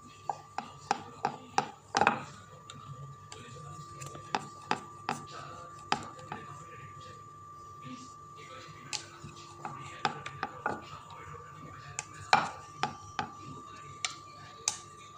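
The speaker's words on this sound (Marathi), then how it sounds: "आता आपण ह्याला लाटून घेऊया" Small balls of kadakan dough rolled out with a rolling pin on a board, a run of sharp wooden taps and knocks in irregular bursts over about fifteen seconds, close and fairly quiet, no speech.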